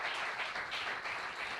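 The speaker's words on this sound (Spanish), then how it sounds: "por favor, un aplauso para ellas." Applause from the audience at a Spanish commemorative event on Gitano history, a dense, steady patter of many hands clapping at moderate distance, with no voices over it.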